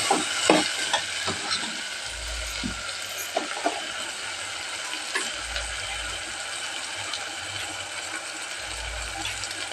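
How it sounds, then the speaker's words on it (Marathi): Vegetables sautéing in a pan for Marathi-style masala rice, with a soft steady sizzle and occasional scraping stirs of a spoon against the pan, fairly quiet and close. "भाज्या चांगल्या परतून घ्यायच्या."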